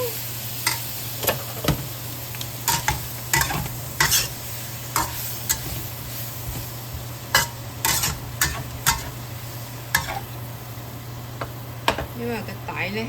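Snow peas and bacon stir-fried in a wok, with a low steady sizzle under repeated sharp scrapes and clacks of a spatula against the metal, fairly close and moderately loud.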